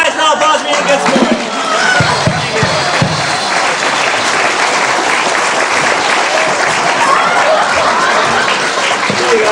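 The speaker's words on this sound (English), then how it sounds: "Give him a nice round of applause for being a good sport." Dense, sustained applause fills a dinner theatre as the audience claps for a volunteer, a thick wash of hands with faint crowd murmur, steady and loud from start to finish.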